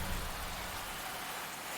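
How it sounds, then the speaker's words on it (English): Rain begins falling over a baseball game, a steady broadband hiss of downpour at moderate level with no voices over it. "Now here comes the rain"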